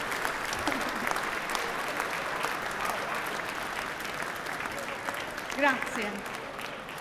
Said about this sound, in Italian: Potete applaudire.